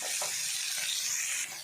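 Tomatoes frying in a pan for a Tulu-style squid sukka: a steady, close sizzling hiss that stays even throughout before easing slightly at the end.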